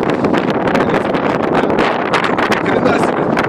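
Strong, gusty wind buffets a handheld microphone outdoors on a cold October evening in North Plainfield, New Jersey, producing a constant loud roar and rumble with no pauses.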